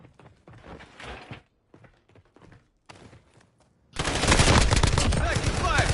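Sudden loud sustained gunfire erupts in a video game match after quieter stretches of in-game radio voice and sparse sounds, continuing steadily to the end.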